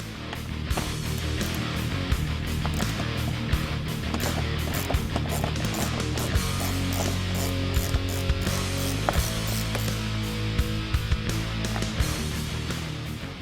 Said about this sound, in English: And then remove the 10mm bolt inside.